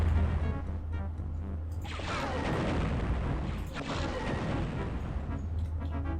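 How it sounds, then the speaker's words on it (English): Explosive barrels blow up in Star Wars: Dark Forces with a heavy crashing boom, followed by a second blast that trails off into a long, rumbling roar. "And clearing out explosive barrels."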